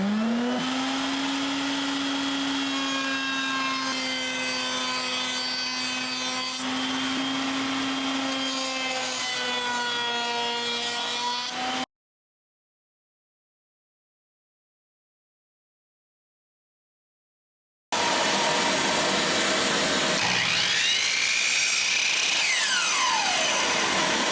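Power tools routing the edge of tenon stock and cutting it to length to make domino tenons for a thick outdoor table, a loud continuous whine with shifting tone, a silent gap midway, then loud broadband cutting noise.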